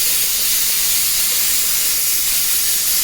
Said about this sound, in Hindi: देखिए मेरा दूसरा कुकर सीटी दे रहा है, इसमें कुछ और पक रहा है